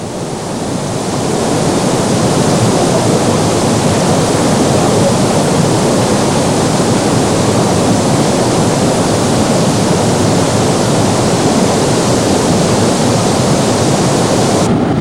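Water spilling through the Hoover Dam spillways makes a steady, dense roar that fills the whole stretch, loud and unbroken like a close waterfall, with no voices over it.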